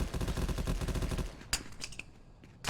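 Rapid bursts of gunfire from a competitive first-person shooter match, a dense rattling volley for the first second or so, then a few sharper isolated shots and clicks, no talk.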